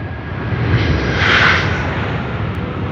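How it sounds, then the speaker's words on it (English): An airliner's thrust reversers roar at Sydney Airport, a loud, broad rumbling rush that swells to a peak midway through and then slowly fades, heard from a distance in rainy conditions. "a bit of the noise with the noise of the thrust reversers"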